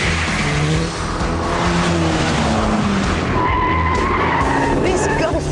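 A VW Golf GTI with a 6-speed manual driven hard on a test track, engine roaring loud and close as tyres squeal and skid through corners, under a voice talking over it.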